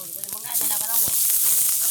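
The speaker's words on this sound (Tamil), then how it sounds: "வெங்காயம் மிளகா தாளிக்கணும் என்னம்மா" Onion and chili sizzle and crackle steadily in hot oil, close up, with a few clinks of a utensil stirring the pan.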